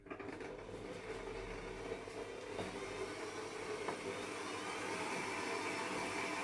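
A stand mixer with a paddle attachment, beating buttercream, runs with a low, even motor whir that holds steady and fairly quiet throughout.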